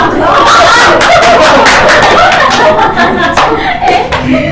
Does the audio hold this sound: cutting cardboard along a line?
no